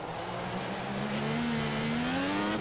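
A Formula 1 race car engine in F1 2014 revs steadily upward on a wet, rainy track, a continuous loud whining tone climbing in pitch without interruption.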